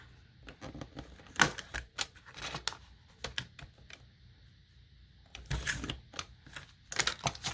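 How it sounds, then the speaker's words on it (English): Paper being cut for a handmade dashboard planner divider gives a series of sharp, close snips and clicks in irregular bursts separated by quiet pauses. "you're going to cut it a little bit bigger on the outside there"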